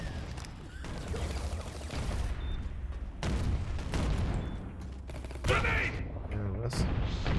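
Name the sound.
shotgun gunfire in the video game Ballistic Overkill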